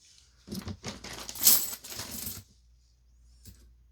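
Coins from a bank roll of 1980s coins clink together in a quick cluster of bright metallic taps lasting about two seconds, followed by one lone clink after a pause.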